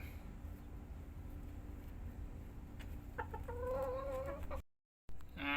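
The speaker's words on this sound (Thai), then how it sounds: "มาดูไก่นิวซีแลนด์นะครับ ไก่มินิโคชิน นิวซีแลนด์นะครับ" Small New Zealand mini Cochin chickens cluck quietly amid a low background hum, with a longer, drawn-out call rising near the end before a brief silence.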